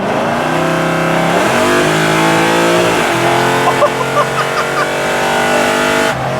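A Mercedes E55 AMG accelerates hard on nitrous, its engine roaring loud and close as it climbs through gears with brief dips at each shift, then holds a strained high drone.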